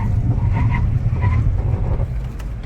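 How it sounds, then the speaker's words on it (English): A 2010 Dodge Grand Caravan brakes hard from speed with its ABS working each wheel, giving a steady, close, low rumble of road and drivetrain noise that runs without a break. "Hear that ABS working each wheel individually to slow this thing down straight and true."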